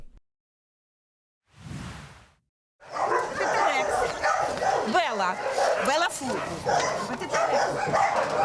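A dog gives a short bark, then several dogs bark, yip and whine over each other close by at an animal shelter, with a voice talking underneath.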